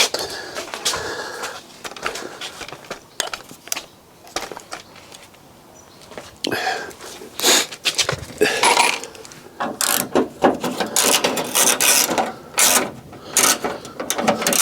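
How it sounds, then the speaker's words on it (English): A spanner with a ratchet works on bolts of a crash-damaged Fiat 500, making bursts of rapid metallic clicking and clattering, close and loud, separated by short pauses. "Might be better with a spanner on there, I think."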